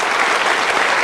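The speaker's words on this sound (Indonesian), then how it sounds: "Boleh saya minta tepuk tangannya untuk Anda yang sudah menentukan pollingnya?" Studio audience applause on a live talk show, a dense, loud wash of clapping that holds steady and close throughout the brief moment, with no voices over it.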